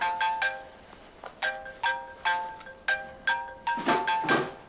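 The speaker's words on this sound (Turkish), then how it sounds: "Telefonum çalıyor." A phone ringtone chimes in a repeating pattern of short bright tones, fairly close, with a couple of louder rustling thumps near the end.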